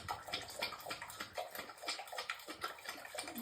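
A pet at home lapping water from its bowl, quick soft wet laps repeating in a steady rhythm, quiet and close.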